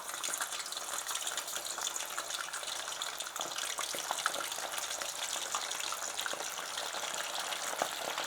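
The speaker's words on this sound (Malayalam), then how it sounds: "നമ്മുടെ ബീഫ് കഷ്ണങ്ങൾ ഓരോന്നായിട്ട് പറക്കി അതിനകത്തോട്ട് ഇട്ട് കൊടുക്കാം" Beef pieces frying in hot sunflower oil, a steady dense crackling sizzle with scattered sharper pops, continuous and fairly loud throughout with no talking.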